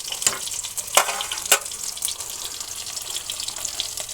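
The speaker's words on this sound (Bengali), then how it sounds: "পনিরগুলো ভাজা হয়ে গেছে, এবার তুলে নেবো।" Paneer fries in hot oil with a continuous bubbling sizzle, broken by a few louder pops and spatters, heard up close with no talking.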